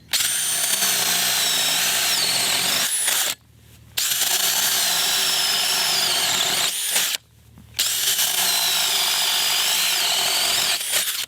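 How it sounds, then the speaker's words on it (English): A DeWalt cordless drill bores holes, running loud and continuous in long bursts with two brief pauses between holes, high whine and gritty grinding throughout. "I'm gonna drill 3 more holes with less pressure"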